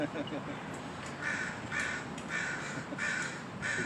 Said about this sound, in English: those crows were ticked off at that cat